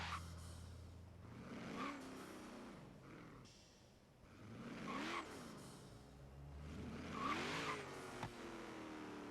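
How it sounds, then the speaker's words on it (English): Ford RS200 engine noise in Forza Horizon 3 revs up and down repeatedly, with the exhaust rising and falling in pitch and a whooshing turbo whine on each acceleration. "Listen to the exhaust or the turbo."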